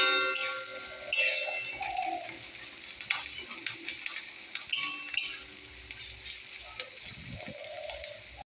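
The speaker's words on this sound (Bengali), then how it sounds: "এই যে ভাত হচ্ছে।" Rice cooks in a pot on the stove, giving a steady, close bubbling and hissing patter with occasional sharper pops and clicks, without any voices.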